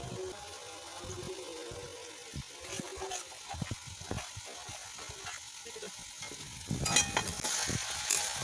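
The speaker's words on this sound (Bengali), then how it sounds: "লাউটা একটু ভাজা ভাজা হবে, একটু লালচে লালচে ভাজা ভাজা হলে আমি নামিয়ে দেবো।" Bottle gourd frying in ghee for a rice-free payesh, a low, soft sizzle under intermittent clinks and scrapes of stirring, growing slightly busier toward the end.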